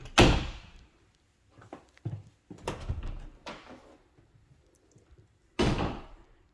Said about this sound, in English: We close that and then open up the other door.